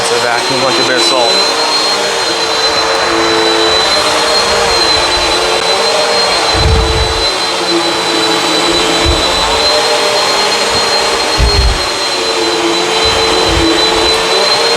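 A Bissell CleanView Swivel upright vacuum cleaner runs at close range with a loud, steady motor whine and airflow roar, picking up bits of dirt, with occasional low thumps as it is pushed across the floor.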